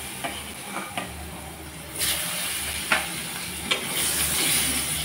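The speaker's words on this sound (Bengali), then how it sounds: "আলুগুলোকে আমি একটু লালচে করে 2 মিনিটের মতো ভেজে নেব" Potatoes frying in oil left from frying fish, with a little black cumin added: steady crackling sizzle throughout, punctuated by several sharp scraping stirs, with no talk.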